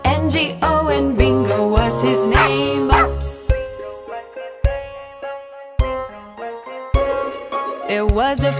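Repeated barking from a cartoon dog rings out over a cheerful kids' nursery tune about a farmer's dog, a cluster of yaps early and scattered single barks later, all mixed into the music.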